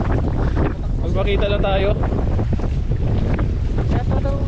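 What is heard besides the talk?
wind blowing at sea on a boat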